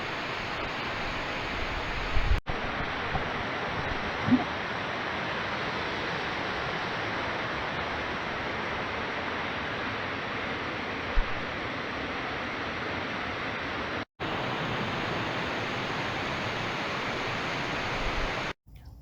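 Pisgah Gorge Falls in Alabama pours steadily, a dense, even hiss of falling water that stays loud and unbroken throughout, with a couple of brief dropouts.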